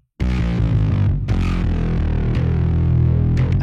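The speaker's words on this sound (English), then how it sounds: "the bass distortion starts breaking up when you get too low" Distorted bass guitar in a low tuning, loud sustained notes with gritty breakup, a few picked notes ringing out one after another, played alone.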